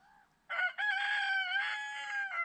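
A rooster crows once near and loud, a long harmonic cock-a-doodle-doo lasting about two seconds after a brief low call, with no talk over it.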